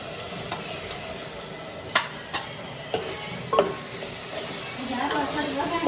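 Sharp metallic scrapes and taps of a spoon stirring tomatoes in a frying pan for kaju paneer, a few distinct clinks over a faint sizzle that rises toward the end.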